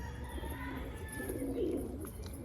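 Birmingham roller pigeons giving a soft, low coo close by, a single rolling call rising out of a quiet background.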